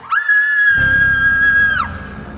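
A person lets out one long, loud, high sustained scream at a very big spider, holding the pitch steadily for over a second before it trails off.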